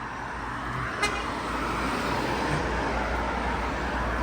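City bus and traffic on a street in the Czech Republic, a steady roar of passing vehicles with one short horn toot near the start, heard from the pavement.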